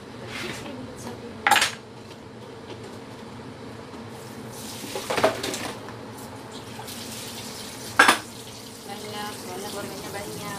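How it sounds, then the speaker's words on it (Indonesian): Oxtail is rinsed in a pot under running tap water, with a few sharp clanks of metal cookware over a steady low wash of water. "Mencuci buntut sapinya."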